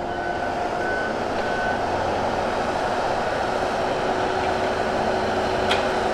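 A Chambers Delimbinator delimbing machine runs in a steady, loud mechanical drone with faint tonal whines, continuous and unbroken, with no voices.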